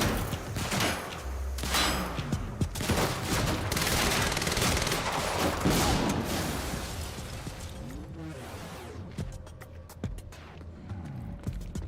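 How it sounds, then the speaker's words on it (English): SMG fire in the video game Quantum Break, a fast unbroken stream of loud close shots lasting several seconds, then a sweeping whoosh and a few scattered shots amid clattering debris. "I like this SMG."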